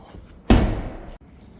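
The driver's door of a 2025 BMW M440i coupe opens with a single sharp, close thunk of the latch, then a short settling rustle before it cuts off.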